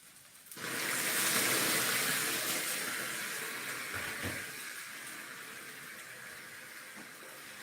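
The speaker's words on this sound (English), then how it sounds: "add a little bit more water." Water runs steadily in a broad rushing stream, starting abruptly after a brief quiet and continuing at fairly constant strength with slight dips, like water poured from a tap into a cooking pot while preparing food from the garden.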